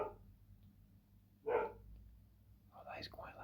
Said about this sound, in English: There's some dogs barking, if you can hear them.